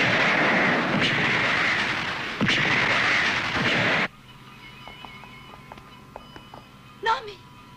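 A weapon or cannon fires in an anime, with a loud sustained roaring blast lasting several seconds that then cuts off abruptly, leaving a quieter scene with faint clicks and a short high cry near the end.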